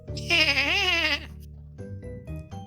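A human voice does a drawn-out, wavering neigh-like whinny meant to imitate a horse, sounding more like a bleat, followed by a few short vocal sounds.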